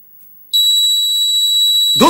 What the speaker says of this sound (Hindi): मैग्नेट को सेंसर के सामने से हटाते ही बजर बजने लगा।